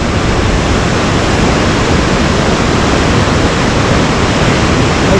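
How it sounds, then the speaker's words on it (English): Ketchikan Creek in Alaska rushes down from the mountains, a steady, loud broadband roar of flowing water that fills the whole stretch without a break. "Ketchikan Creek goes all the way up there into the mountain."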